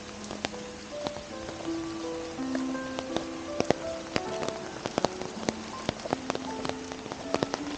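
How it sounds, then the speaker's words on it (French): Steady rain patters on surfaces, with scattered sharper drips and drops tapping nearby throughout. "Bah moi, je vous présente la version pluie."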